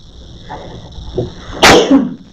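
One loud, sharp sneeze bursts out close by after a few quiet rustles and a soft intake of breath.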